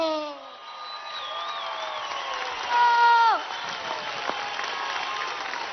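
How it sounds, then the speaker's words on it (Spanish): A large crowd at an outdoor socialist rally for the president in Venezuela claps and cheers in a steady, sustained roar, with shouted voices and whistle-like tones riding over it. "Un aplauso gigante."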